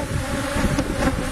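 Honey bees buzz densely and continuously around hive boxes, a close, loud drone with faint wind rumble underneath.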